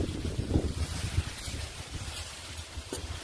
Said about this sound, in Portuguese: Conseguiu ver a força do vento?